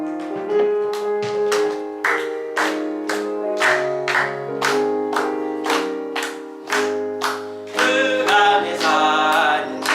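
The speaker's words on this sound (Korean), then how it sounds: "우리 박수 치시면서 우리 찬송 하도록 하겠습니다." A church congregation at a Korean Sunday morning service sings a hymn together while clapping in a steady, even rhythm, each clap sharp and clear above the voices.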